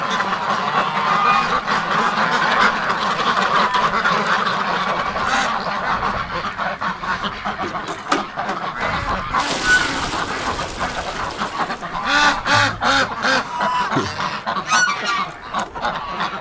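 A flock of ducks honks and quacks continuously, loud and close, with overlapping calls and some shuffling movement throughout.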